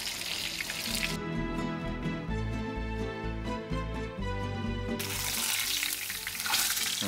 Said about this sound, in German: wenn die Schnitzel am Braten sind